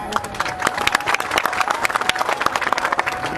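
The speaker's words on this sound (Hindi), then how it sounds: "ये ताली बजाने का विषय नहीं है।" An audience at a speech breaks into applause, a dense patter of many hands clapping close and loud throughout.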